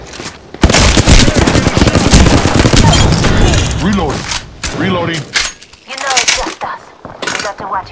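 Rapid, loud gunfire bursts in the Apex Legends battle royale game come in dense volleys with sharp cracks, easing into scattered shots toward the end, while voices call out over the firing.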